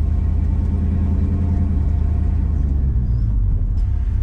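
A 1964 Ford Galaxie 500 XL hardtop with dual exhaust idles in a steady, close, loud low rumble that holds evenly throughout without any revving.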